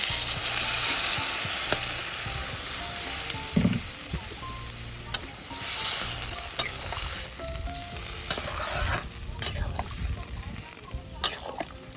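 Vegetables cooking in a pan for a simple village-style mixed vegetable curry sizzle and fry steadily while being stirred, with scraping strokes and a splash of water added partway through, under background talk.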